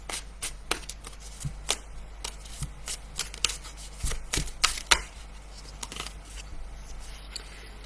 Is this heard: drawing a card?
yes